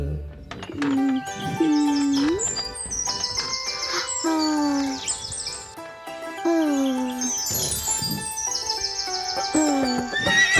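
A horse neighs repeatedly inside a Hindi nursery rhyme track, its whinnies rising over bright children's music with chirping birdsong throughout.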